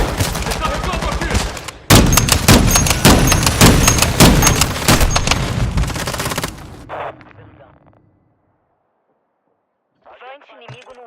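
A grenade launch and bursts of rapid gunfire in the video game Call of Duty play loud and dense for several seconds, then fade into near silence before a short burst of game sound returns.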